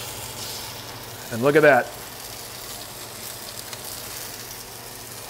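Salmon just flipped sears in a Turbo Pot pan, a soft continuous sizzle sitting low in the background while someone speaks briefly over it.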